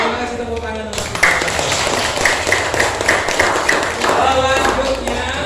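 A class applauds together after practising prayer steps, with sharp group claps and taps partly overlapped by voices and some chatter running beneath the clapping.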